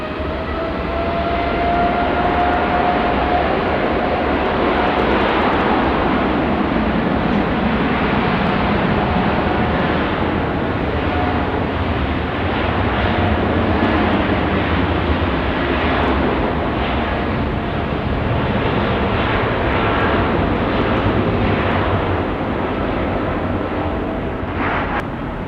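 A Qantas Boeing 787 rolling for takeoff on runway 16 right at Sydney Airport, a loud, continuous engine roar holding steady throughout with a faint rising whine, no voices.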